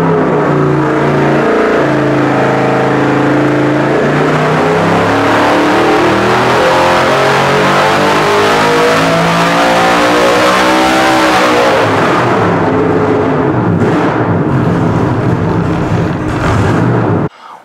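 A car engine on a dyno, run with excess oil in the crankcase, revs loud and steady through a long rising pull, its pitch sweeping upward before cutting off near the end, with no talk.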